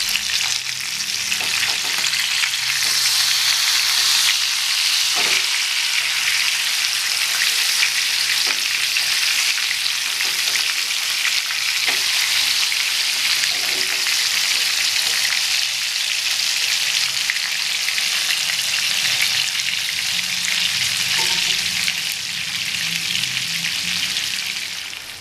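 Fish frying in a pan of oil, a continuous, close, dense crackling sizzle that holds steady throughout, with occasional faint clicks and taps beneath it.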